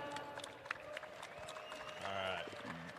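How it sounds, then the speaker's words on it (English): Crowd applause at a Harley-Davidson Flat Out Friday pre-show for a motorcycle builder, steady clapping mixed with crowd noise and cheering voices, moderately distant, swelling louder toward the end. "Give him a round of applause."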